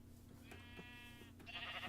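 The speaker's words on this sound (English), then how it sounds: "the sheep. Kind of noisy, a little bit of a mess." A couple of sheep bleats in Minecraft, wavering nasal calls over a low steady background hum, fairly faint, with no one speaking.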